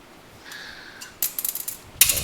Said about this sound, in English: The sound of a nut hitting the floor.